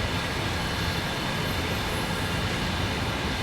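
Heavy freight train pulling away in Train Sim World 4 on the Main Spessart Bahn, a steady dense low rumble of wagons and rolling stock with constant broadband noise and no talking.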